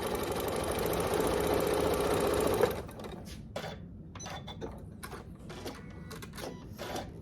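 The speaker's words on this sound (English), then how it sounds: "So let's just go ahead and sew that." A sewing machine stitching quilt fabric pieces for a fall table runner, running steadily and fairly close for under three seconds, then stopping into quiet handling clicks and taps.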